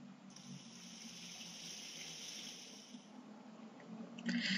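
Steady shower water running in a bathroom in the video game Paradise, a continuous hiss lasting several seconds before a brief clatter at the end.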